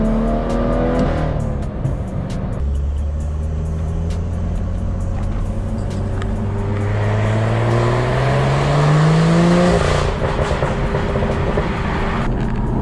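A BMW F87 M2 with a diverter valve runs loud and close, its engine note rising steadily under acceleration for several seconds, then dropping away.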